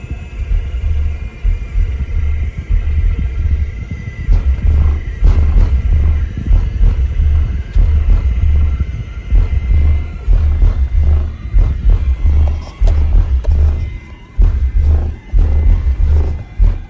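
Pickup truck engine running after an alternator replacement, heard from inside the cab: a loud, deep, continuous rumble with a pulsing low drone that swells and dips, plus rattling and buzzing vibration.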